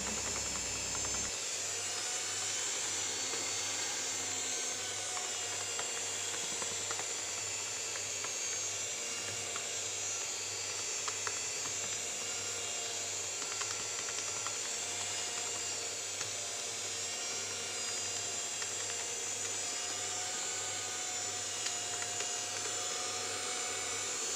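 An electric mixer beats chocolate cake batter at high speed, a steady high-pitched motor whine with a rattling whirr that holds unchanged for about 24 seconds, close and alone.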